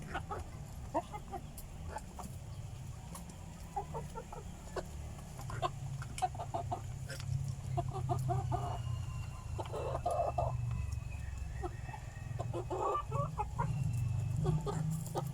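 Heritage chickens eating mixed feed combined with Madre de Agua leaves, with scattered soft clucks and calls over a steady low rumble of background noise, the flock close by.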